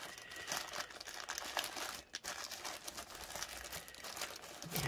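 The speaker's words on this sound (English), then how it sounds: "let's get this other bag open" A plastic bag is torn open and crinkled continuously at close range for about five seconds, with loud rustling and crackling and one brief pause, and no voices.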